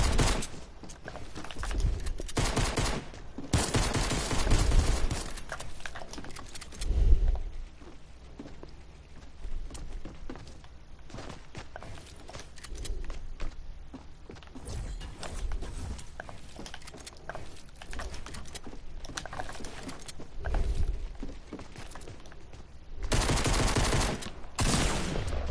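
Bursts of rapid automatic gunfire from a Fortnite match, several loud fusillades spaced across the span with mechanical clicks and game effects between them.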